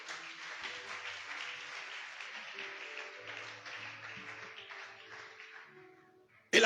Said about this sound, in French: On acclame le Seigneur.